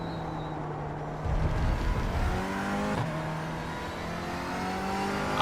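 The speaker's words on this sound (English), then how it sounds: "It's the sports car." A GT4 sports car races in the GT World Challenge at Sonoma Raceway, its engine heard close and steady, climbing through rising revs across several gear changes with no talking.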